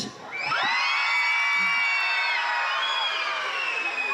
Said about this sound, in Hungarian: Sikítás!